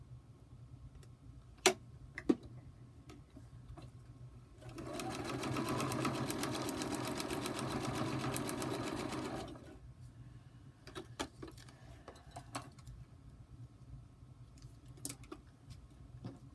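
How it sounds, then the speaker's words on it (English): A sewing machine runs a continuous stitching burst of about five seconds while piecing a quilt block along a marked line, loud and steady between quieter room sounds and a few small clicks. "Now I'm going to sew from that dotted line clear out off the"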